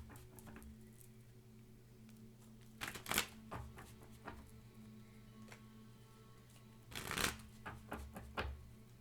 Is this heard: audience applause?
no